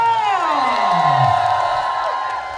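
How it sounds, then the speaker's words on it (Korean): Kindergarten children and families at a kindergarten arts recital clap and cheer together: loud shouting and whooping voices rise in a sustained crowd roar that slowly fades, with no clear speech. "전체 박수와 함성"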